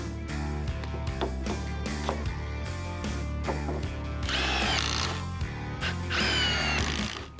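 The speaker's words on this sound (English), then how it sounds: "I'm going to get my floor bearers screwed together" A power drill drives screws into timber floor bearers for a small cabin, the motor whining steadily throughout with short revving pulses and two louder, harsher bursts near the end as screws bite.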